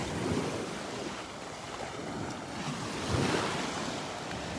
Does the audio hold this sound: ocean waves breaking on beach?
yes